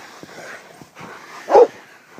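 Dogs playing in the snow after a big snowstorm, several close barks and yips with whimpering sounds between them, one bark louder than the rest.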